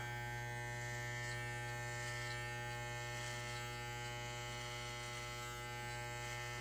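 Electric hair clippers hum at close range with a constant, unbroken buzz set at a 2.5 lever setting during a haircut, with no talking.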